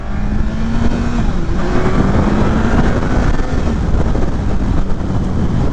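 A 2020 Kawasaki Ninja ZX14R on the move, a loud steady engine drone with a rising whine under heavy wind rush, sustained and close throughout, no talk.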